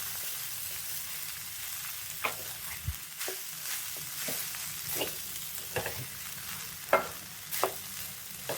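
Cooked rice stirred in a pan for vakkaya pulihora, a spoon scraping and clinking in irregular strokes over a faint background sizzle, close and moderately quiet with no talking.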